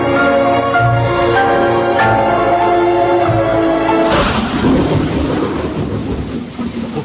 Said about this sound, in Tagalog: Mabansak na ulan.